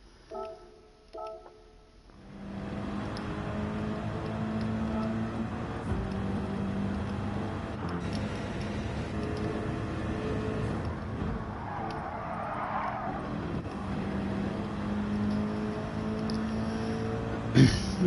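Race car engine in Gran Turismo 7 during a time-trial race, held at high revs in a steady, loud drone with harmonic engine tones that shift slightly, after a brief quieter start.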